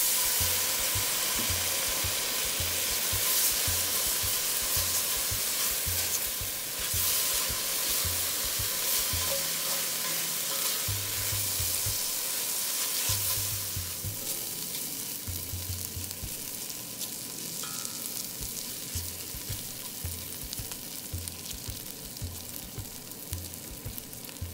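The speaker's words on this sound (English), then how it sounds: "In with the garlic, stirring constantly to prevent burning." Garlic sizzling in a hot pot for vegan tortilla soup, a steady close frying hiss throughout with regular scraping and stirring strokes of a utensil against the pot bottom.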